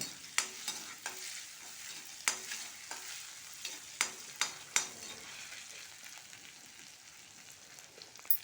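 Crushed ginger, garlic and fennel seeds fry in hot oil in a pan, giving a soft steady sizzle broken by a handful of sharp spoon clicks against the pan, close and fairly quiet.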